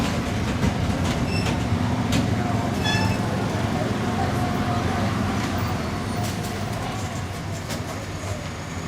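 Disneyland Railroad steam train departing, with a steady rumble of rail cars and faint clicks and squeaks from the wheels throughout.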